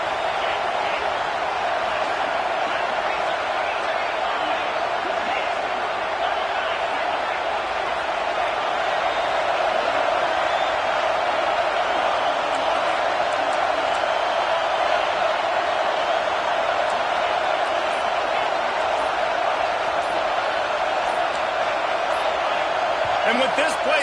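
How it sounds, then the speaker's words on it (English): A big American football stadium crowd roars in Texas, a steady, dense wall of noise that holds loud throughout, with a commentator talking over it. "Listen to this crowd just shaking the girders of this place"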